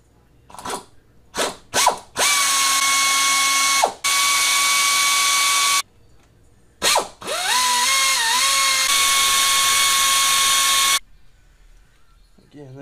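A ratchet wrench removes the timing chain cover bolts on a GM 4.2L engine: a few short clicking bursts, then two long, steady runs of loud, close ratcheting separated by brief pauses.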